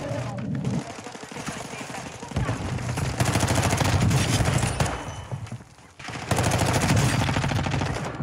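Automatic weapon fire from a Call of Duty match with the MCPR-300 loadout, dense rattling bursts that run almost continuously, dip briefly, then resume loud and close, with a voice speaking over them.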